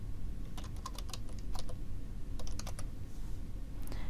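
Quick bursts of keystrokes on a computer keyboard entering a search for a quilt design in Electric Quilt 8 software, two clusters of close, crisp taps over a steady low hum.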